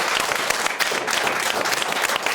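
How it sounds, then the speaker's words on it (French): Vigorous audience applause for film guests on a talk show set, a dense, even burst of many clapping hands that runs steadily throughout with no speech over it. "On va encore une fois vous applaudir bien fort, Steven et Sabrina."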